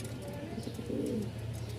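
A pair of black magpie pigeons offered for sale, cooing softly and steadily at close range with a low continuous murmur and no talk.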